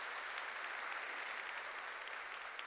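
A church congregation applauding together, a dense, steady wash of clapping hands that holds at an even level throughout, somewhat distant and without a break.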